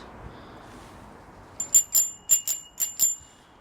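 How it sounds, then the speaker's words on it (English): A bicycle bell rings six times in quick bright dings, close and clear over faint outdoor rumble while cycling along a path. "I'm actually gonna go that way, where them group of people are, and ring my bell"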